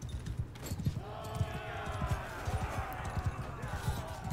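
Horses galloping in the Mount and Blade Bannerlord video game, a rapid, continuous clatter of hooves from cavalry and horse archers in battle, with someone talking over the game sound.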